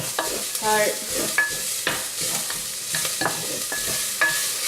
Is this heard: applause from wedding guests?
no